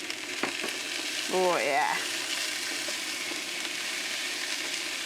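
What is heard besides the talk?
sausage frying and sizzling in a pan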